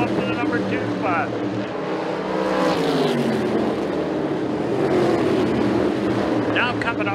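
Super race cars roar around an oval speedway, a dense continuous engine drone with passing cars swelling and fading, heard under an announcer's live commentary.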